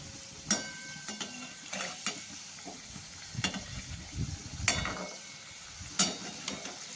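Bakhar modak dumplings fry in plenty of hot oil with a soft steady sizzle, while a metal spoon stirs and clinks against the pan now and then, close and quiet.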